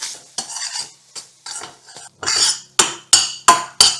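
A spoon stirs banana in a pan with a string of scraping strokes, first uneven, then sharper and more regular toward the end, close and alone without voices.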